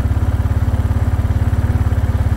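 A motorcycle engine idles steadily at close range during a wideband air-fuel ratio meter test, its rapid, even low thumping and light mechanical clatter running unbroken and alone throughout.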